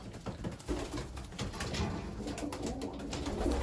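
Paired breeding pigeons coo softly beneath a broad steady hiss of room or fan noise, the low calls repeating without a clear beat.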